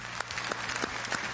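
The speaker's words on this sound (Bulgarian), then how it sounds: "Аплодисменти за третия участник в този епизод." A studio audience on a Bulgarian TV quiz show claps for a contestant, a brief burst of dense, close applause with no talking over it.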